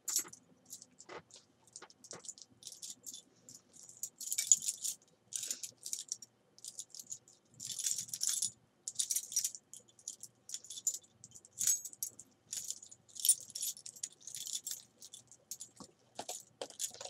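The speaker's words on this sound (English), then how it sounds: "We're just going to get the keys and do that." A bunch of keys jangles close by in short, quiet, metallic bursts of clinking that come and go with brief pauses between them.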